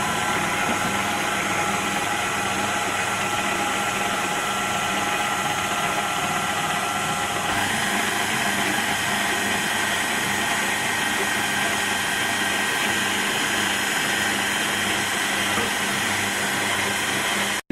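Stand mixer running steadily at high speed, whipping egg whites for nougat while hot sugar syrup is poured in; a loud, continuous motor whir with a slight shift in tone partway through, no talking.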